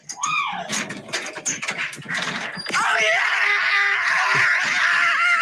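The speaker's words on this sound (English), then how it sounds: "that's him running through his neighborhood screaming" A man screams as he runs through his neighborhood after a game-winning field goal: loud, raw, sustained yelling that breaks into a long continuous wail near the mic, preceded by excited vocal bursts.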